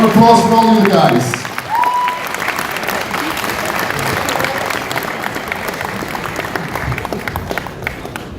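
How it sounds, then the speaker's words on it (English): A bodybuilding contest audience at the 2018 NABBA Mr. Scotland First Timers show gives loud, sustained applause for the contestants. A voice on the microphone is heard briefly at the start. "A round of applause for all you guys."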